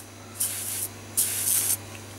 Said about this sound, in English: gone over it with leak spray